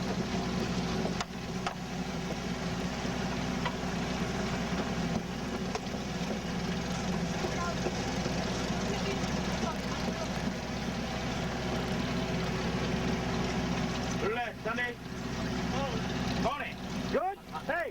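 A boat engine on a pearling boat runs steadily in gear, a continuous low droning rumble that stays loud and even throughout, with brief dips near the end.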